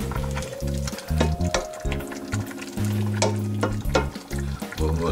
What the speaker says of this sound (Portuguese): Vamos mexer, porque agora depois de pormos o bacalhau já não vamos mexer mais nisto